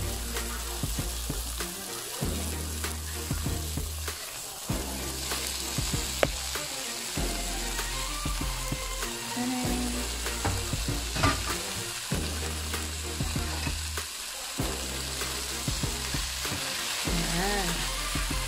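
Bitter melon (ampalaya) stir-fried in a pan: a steady close sizzle runs throughout, broken by regular scraping and stirring strokes, with no talking.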